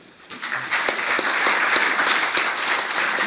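Applause breaks out from an audience at a political debate just before a keynote speech, swelling quickly into loud, sustained clapping that fills the room.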